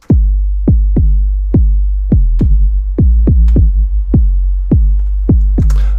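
An 808 bass made in Logic Pro X with soft distortion plays a deep booming pattern of about fifteen punchy hits in an uneven rhythm, each with a sustained tail, loud and alone.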